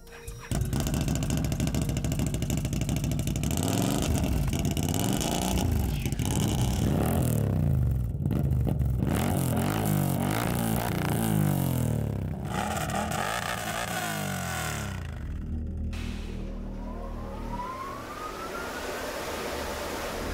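A quad bike ATV engine started up and left running in a snowy field, a loud, continuous mechanical drone with shifting revs, easing slightly toward the end, with no talk.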